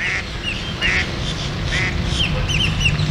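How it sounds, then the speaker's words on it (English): Ducks quack out on a pond in an outdoor park setting, several short nasal calls scattered across a few seconds at moderate distance, over a steady background wash. "So you can see the ducks out on the pond over there"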